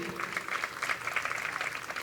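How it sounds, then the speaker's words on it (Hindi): Audience applause at a religious question-and-answer gathering, a brisk, dense patter of many clapping hands at moderate volume for the whole couple of seconds. "जोरदार ताली बजा दीजिए।"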